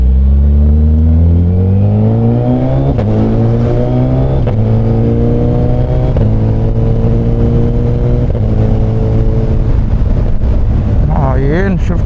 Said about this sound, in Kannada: ನಿಂಜಾ 1000 ಎಲ್ಲ ರೈಡ್ ಹೋಗ್ತಿದೆ.